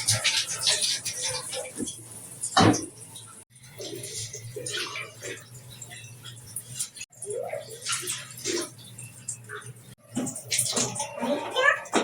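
Water splashes and pours into a cooking pot for pulao in a home kitchen, a steady running wash with bursts of louder splashing, while someone talks over it.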